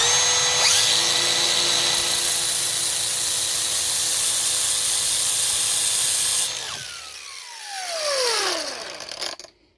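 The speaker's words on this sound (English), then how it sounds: "stick it in a drill. That spins it. Get a grinder with flat wheel on it and just run it along the outside edge" A small moped part for a Latvian Riga 13 spins in a drill while a grinder with a flat wheel runs along its outside edge, giving a loud, steady whine for several seconds, then the tools wind down with falling pitch.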